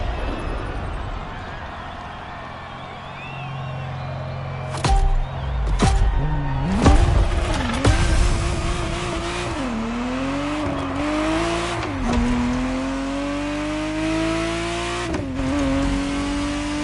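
Ferrari Testarossa engine in a driving video game, revving and shifting through gears with rising and falling pitch, some sharp transient hits and tire noise, loud and close throughout.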